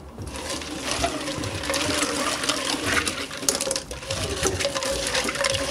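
Shellfish gathered from the sea are rinsed by hand in a basin of water, a steady close splashing and sloshing with trickles running throughout.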